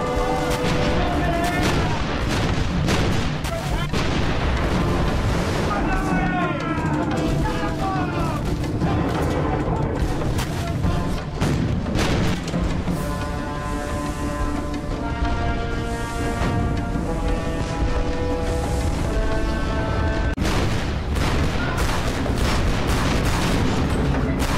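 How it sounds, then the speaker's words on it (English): Naval cannons on an English warship fire against the Spanish Armada in a sustained barrage, repeated booming blasts and sharp cracks layered over loud continuous battle noise and dramatic music. "the Spanish ships were now within range of its cannons. The order was given to fire."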